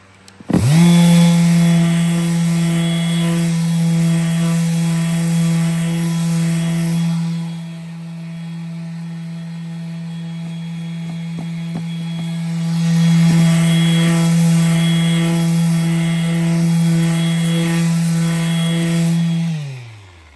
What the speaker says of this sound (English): Now I get to sand some more. It should be our final sand.